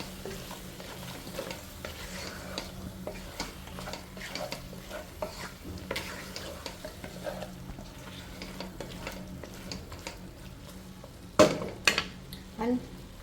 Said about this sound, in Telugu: ఈ జింజర్ గార్లిక్ పేస్ట్ అనేది పచ్చివాసన పోయేంత వరకు వేయించుకోవాలి.